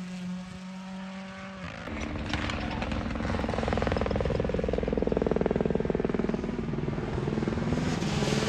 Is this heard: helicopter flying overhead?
yes